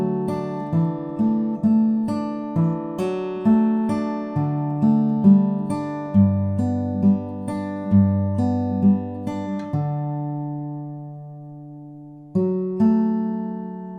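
Acoustic guitar fingerpicks the intro of a song at a slow, even pace, plucked notes ringing over bass strings, ending on a held chord before a final strum.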